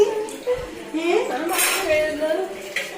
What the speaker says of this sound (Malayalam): പാത്രം കഴുകുന്നു.